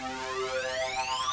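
FG Pro 52 synth lead preset from the leads section of Sour, a bright buzzy tone with a heavy phaser sweep rising through it, sustained and moderately quiet, alone without voices.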